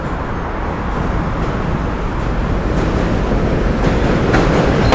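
A New York City subway J train passes with a continuous loud roar and rumble of wheels on rails, steady throughout with faint rhythmic clatter and no talking.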